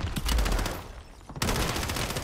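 Rapid automatic gunfire rattles through a Warzone match in two dense stretches, a loud, steady stream of shots that drops briefly into quieter rumble before another burst kicks in.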